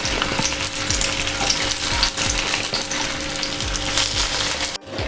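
Sausages sizzle and crackle in oil in a frying pan while making chicken hot dogs, a steady close hiss with no voices and a brief click near the end.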